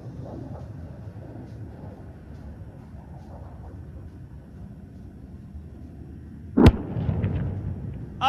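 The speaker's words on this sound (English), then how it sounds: "Even as we speak, the bomb has already been dropped." A laser-guided bomb dropped by an Su-30 MKI detonates on a mobile launcher target at an air force firepower demonstration, a single sharp, loud blast arriving over a steady low rumble of aircraft and crowd noise, followed by a rolling after-roar.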